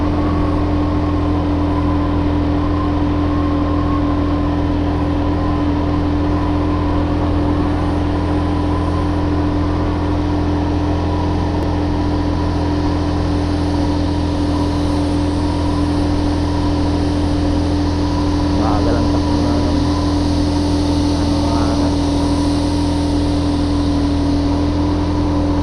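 Steady motorcycle engine drone during a mountain ride, a constant loud hum with strong low harmonics and wind rush running unbroken throughout, no talking.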